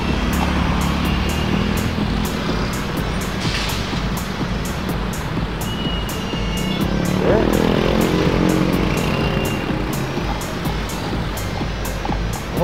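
A Blitz electric logistics motorcycle built to haul heavy loads rides along with a steady motor whir under strong wind rush, while a rider talks intermittently.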